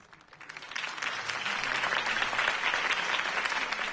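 Crowd applause at a campaign rally for Harvey Dent in Batman: The Telltale Series, clapping swelling in from quiet and holding as a dense, steady wash of many hands.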